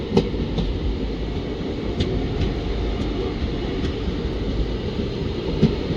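A passenger train runs on the Mysore to Talaguppa line near Kote Ganganur station, giving a steady, loud rumble with faint periodic rail clicks throughout.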